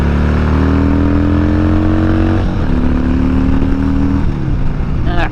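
A Harley-Davidson Ironhead motorcycle on the road, its engine droning loud and steady up close, with the pitch climbing through a gear, dropping at a shift and then rising again, under strong wind rush.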